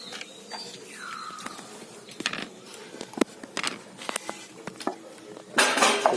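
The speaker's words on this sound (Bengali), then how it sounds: "কেটে নিচ্ছি আমি চিপসগুলো।" A knife slices potatoes into chips on a board, giving a run of sharp, uneven taps and clicks close by, with a louder scrape of gathered slices at the end and no talk.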